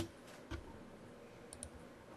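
A few sharp mouse clicks and light keyboard taps come up close and quiet, spaced apart over faint room noise while editing text in Inventor CAD software.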